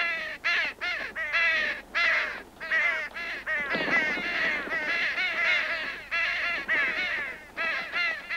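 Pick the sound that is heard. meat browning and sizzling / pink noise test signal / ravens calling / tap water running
ravens calling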